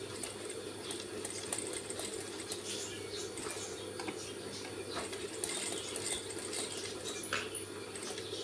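Sewing machine stitching fabric in a tailoring class, a continuous close mechanical whirr with a steady rapid needle patter and light clicks, running without pause.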